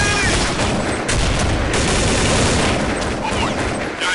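Dense, continuous gunfire in Counter-Strike, loud and sustained, with rapid overlapping shots and bursts filling the whole stretch.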